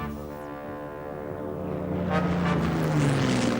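A Fokker fighter propeller aircraft from the Soviet-Finnish war drones past with a deep, harmonic engine tone that swells louder and breathier as it draws closer.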